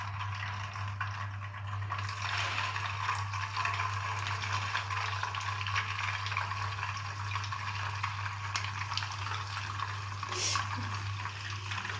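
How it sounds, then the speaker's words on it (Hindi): Chicken reshmi kebabs fry in a pan with a steady, even sizzle and crackle under a constant low hum, and no voices are heard. "अब उसको फ्राई करते हैं"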